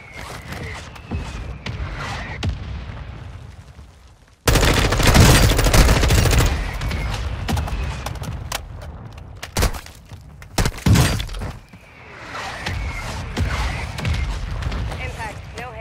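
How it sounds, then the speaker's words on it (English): Mortar strike in the shooter game Warzone 2 on Ashika Island: a sudden loud, broadband barrage of blasts and rumbling impacts that bursts in after a quieter stretch, with sharp cracks and booms continuing before settling back to ambient battlefield noise. "Mortar strike on the way."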